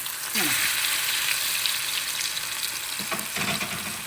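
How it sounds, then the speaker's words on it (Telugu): Corn vadas shallow frying in oil in a pan, with a steady sizzle and a few brief clinks or scraping stirs; a voice speaks briefly. "ఇప్పుడు వీటిని తీసేసి మనము ఇక్కడ షాలో ఫ్రై చేసుకుందాం."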